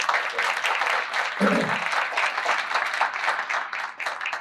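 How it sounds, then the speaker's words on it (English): Audience at a SQL Server 2019 tech event in Chicago breaking into steady, dense applause that fills the room, sustained and fairly loud throughout with scattered voices mixed in. "I'd love you guys to give a hand for Redgate for the event they put on today."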